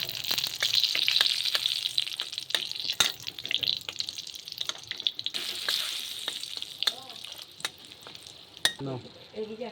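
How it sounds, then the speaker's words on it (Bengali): Dried red chillies sizzle in hot oil for tempering in a home Indian kitchen, a steady close hiss with light clinks and scrapes of stirring throughout. "এখন ফোড়ন দিব শুকনো লঙ্কা"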